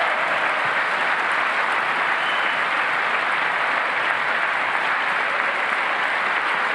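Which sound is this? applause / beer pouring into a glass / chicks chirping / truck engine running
applause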